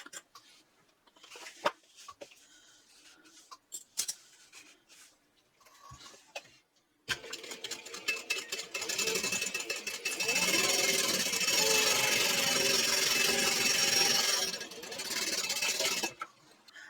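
A sewing machine stitches the bottom of a fabric clutch after some scattered ticks and handling noises, running steadily for about nine seconds up close before stopping.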